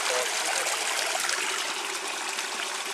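Water flows and trickles continuously at a natural spring source, a steady, fairly close broadband rush with no pauses.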